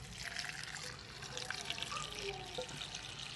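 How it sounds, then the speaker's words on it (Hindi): Chicken stock being strained through a strainer, a steady soft trickle and pour of liquid running throughout at close range, with no talk. "ये हम यखनी जो है ये हम छान लेंगे इस तरीके से"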